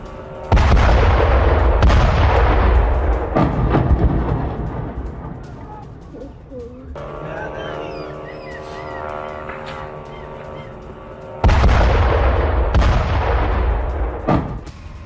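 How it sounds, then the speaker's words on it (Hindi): Loud explosions after a drone strike on a residential area of Moscow: a series of heavy, booming blasts, two early and two more near the end, with a quieter rumbling stretch between them. "ड्रोन टकराने के बाद हुआ जोरदार धमाका।"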